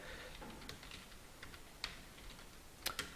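Typing on a computer keyboard in a word-processing program, heard as faint, sparse key clicks with a few sharper taps near the end, no voice over it.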